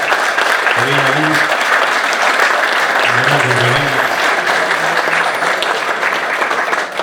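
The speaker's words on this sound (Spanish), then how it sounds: "le pido un fuerte aplauso para ella" Strong, continuous applause fills an awards ceremony hall, many hands clapping at once in a steady wash, with brief murmured voices rising and fading beneath it.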